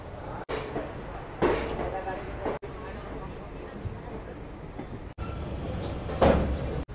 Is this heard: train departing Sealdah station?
yes